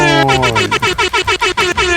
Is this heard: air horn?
yes